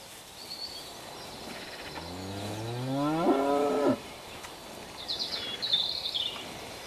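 Cattle grazing in wet rushy fields let out a single drawn-out moo that rises and swells before cutting off, heard from a moderate distance amid faint outdoor ambience with bird calls afterward.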